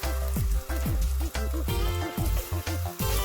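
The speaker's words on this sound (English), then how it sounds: "In with a couple of tablespoons of sesame oil, and I'm going to fry the plantain with that." Plantain frying in sesame oil for an ackee and plantain stir-fry, a loud close sizzle in repeated bursts with brief pauses, crackling and spitting throughout.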